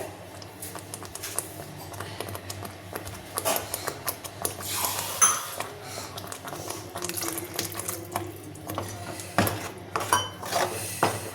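A spoon stirs chicken sambar masala in a metal pot, Gowda-home style, with irregular clanks, scrapes and clatters against the pot sides, close and fairly busy.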